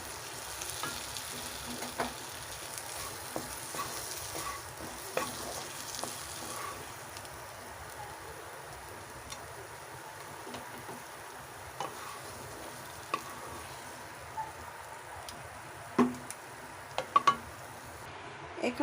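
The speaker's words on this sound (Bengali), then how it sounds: "ভালোভাবে একসঙ্গে সব কিছু মিশিয়ে নেব।" A paneer filling for potoler dorma sizzles quietly in a pan while being stirred, a soft continuous frying crackle with scattered light spatula scrapes and taps.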